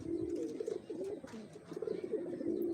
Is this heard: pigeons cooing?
yes